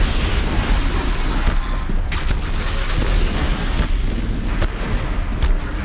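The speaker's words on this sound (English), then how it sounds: "let's maybe try to remove that cannon, because I think that's what's causing all these explosions" Dense booming blasts and bursts from cannon fire in Horizon Zero Dawn pile up continuously, heavy low rumbles with sharp pops scattered throughout, loud and close.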